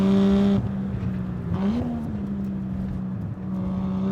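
A turbocharged 1JZ engine in a Toyota Mark II JZX100 with a catless 3-inch downpipe and dual exhaust drones loudly, its revs dipping and climbing through a gear change, heard from inside the car with no talking.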